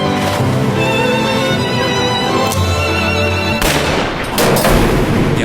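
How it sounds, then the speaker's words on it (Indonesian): A gunshot in an Indonesian-narrated film scene of a character shooting himself, a sharp blast breaking through a dense, loud dramatic score, with a second heavy impact near the end and no talk over it. "Yang mana kemudian Lee pun menembak dirinya sendiri"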